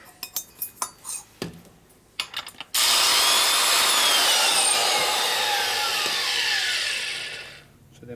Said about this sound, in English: Do one more grind.